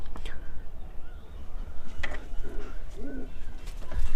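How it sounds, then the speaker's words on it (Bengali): A pigeon in a loft coos softly, with a couple of short low coos over faint background noise and light rustling. "এই ফিমেল কবুতরটার পেয়ার দিয়েছি আর এই কবুতরটা খুবই ভালো"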